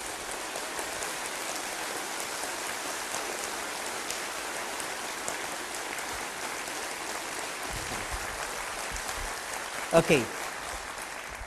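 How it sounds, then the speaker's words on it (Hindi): A large audience at a spiritual talk claps continuously in a dense, rain-like patter, steady and moderately loud for the whole stretch, with a brief spoken word near the end. "अब तालियां बजाइए।"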